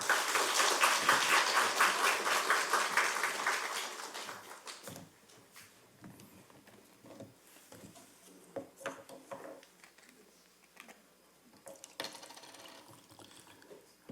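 A church congregation applauds a new preacher at a Sunday afternoon service, a dense burst of clapping for about four seconds that fades into scattered rustling and small knocks.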